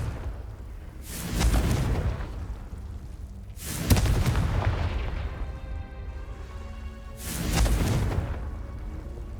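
In the Hogwarts Legacy video game, Confringo blasting spells go off as three heavy, booming explosions spaced a few seconds apart, each a deep rumbling burst that fades slowly.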